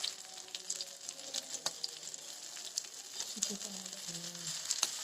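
A thin pumpkin fasting thalipeeth roasts in a pan, giving a steady soft sizzle and crackle close by, with faint clinks now and then.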